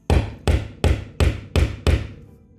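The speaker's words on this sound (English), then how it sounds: "I want to take a hammer and pound the screw in so it's solid" A hammer pounds a screw into a wall stud for a TV mount, six loud, evenly spaced sharp blows each ringing briefly before the next.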